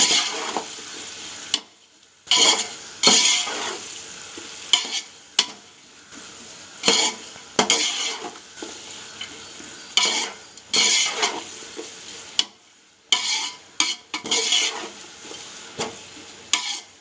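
Chicken dum biryani masala being stirred in a pot, a spoon scraping and clinking against the metal in repeated bursts with short pauses between, close and fairly loud over a faint sizzle.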